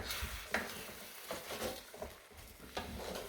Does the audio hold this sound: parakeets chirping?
no